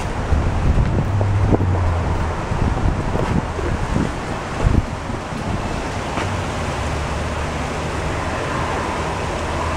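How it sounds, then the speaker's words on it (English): Strong wind buffets the microphone with loud, continuous rumbling gusts, with no voices. "It's really windy out."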